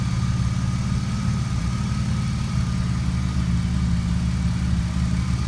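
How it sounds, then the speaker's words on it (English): A BMW E36 with an M52 inline-six idles while warming up on fresh oil, a steady low rumble with a smooth, even pulse and no revving, close and fairly loud with no voices. "I'm just letting the motor warm up a little bit with the new oil"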